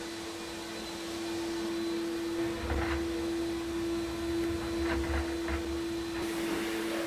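A blast cabinet stripping paint off a part, a steady hissing roar of blasting media starting after a second and running continuously over a constant electrical hum, close and loud.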